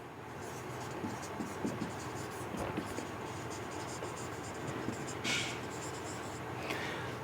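A pen scratches steadily across paper while a trial balance is written out by hand, soft and close, with quiet strokes and faint taps throughout.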